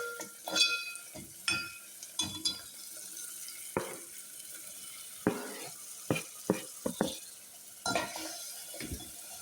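Tomato goes into hot oil for a mushroom shorba and sizzles while frying, with a low steady hiss broken by a series of sharp spattering bursts and stirring clinks that come and go close by.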